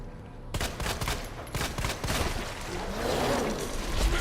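Gunfire in the Resident Evil 2 remake video game, a rapid burst of close shots in quick succession giving way to a dense continuous roar of noise.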